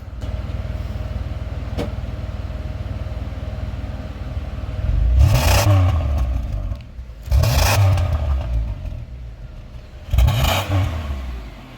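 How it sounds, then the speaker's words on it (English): A Pontiac Grand Prix engine idles at close range, then revs up in three separate bursts, each climbing and falling back to a steady idle, with no talking. "Hey, you want to give it a rev?"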